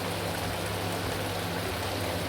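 Chicken yakhni pulao rice simmers in a pot of water, giving a continuous soft hiss and bubbling that stays even and close throughout.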